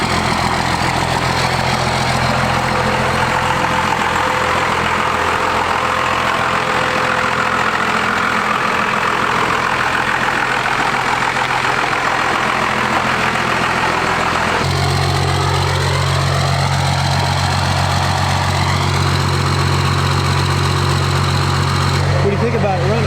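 12-valve Cummins diesel truck idling with new injectors, a loud, steady low rumble with a rhythmic diesel clatter running for the whole stretch, its tone shifting partway through, with people talking over it.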